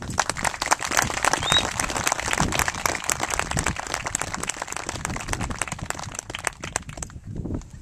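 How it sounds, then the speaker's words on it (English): A memorial ceremony audience for lost fishermen gives a round of applause, a dense crackle of many hands clapping steadily for several seconds before tapering off near the end. "we owe a tremendous round of applause to the men and women that have gotten this off the ground"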